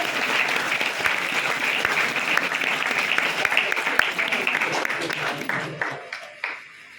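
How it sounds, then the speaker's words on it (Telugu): Applause from an audience at a speech event in Proddatur, a dense, sustained crowd clapping that holds steady for several seconds and then thins and fades out near the end. "ఇక్కడ ఉన్న వాళ్ళందరినీ గట్టిగా ఒకసారి చప్పట్లు కొట్టాలి కోరుతున్నట్ట"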